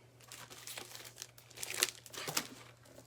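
Metallic sketch foil sheets in purple, green and silver crinkle and crackle as they are handled, with quiet soft rustles building into a few sharper, louder crunches, close up and with no talking.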